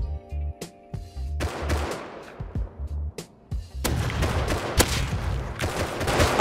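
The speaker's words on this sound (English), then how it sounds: "Oh my god, I shot him!" Gunfire in the survival game Rust during a scrap raid: repeated sharp shots, some in quick bursts, ring out loud over a low rhythmic game background, building into dense, sustained firing with heavy booming reports.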